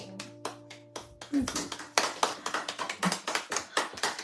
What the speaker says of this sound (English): Kerry is also applauding